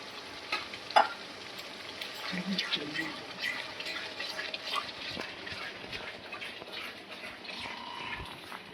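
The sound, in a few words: spice masala frying for chicken curry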